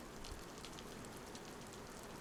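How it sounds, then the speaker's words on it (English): Rain falling in the video game DayZ, a soft steady hiss of drops on surfaces, quiet and unbroken with no voices. "And it starts raining."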